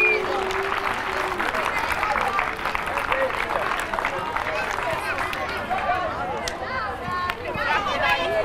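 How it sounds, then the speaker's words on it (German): A stadium crowd applauds AC Milan, a dense sustained wash of clapping and cheering with scattered whistles, loud and steady throughout. "Und dann einen großen Applaus für AC Milan."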